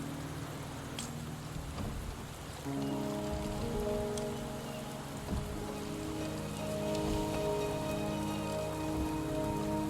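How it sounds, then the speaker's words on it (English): Rain pours steadily in the video game Wuthering Waves, a dense hiss of drops striking surfaces with a low rumble of thunder beneath, joined by soft sustained musical tones. "The rain is subsiding, and the sky will soon clear."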